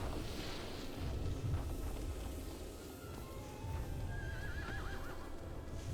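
A horse in the video game Shadow of the Colossus whinnies with a rising, wavering neigh over steady wind noise and soft hoofbeats, heard alone without talk.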